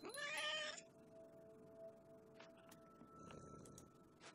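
A cat in the video game What Remains of Edith Finch gives one clear, close meow at the start, followed by faint ticking and soft rustling sounds in a quiet scene.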